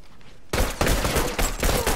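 Sudden burst of rapid gunfire in the video game The Last of Us online multiplayer erupts after a brief quiet moment, loud and sustained with dense, overlapping shots.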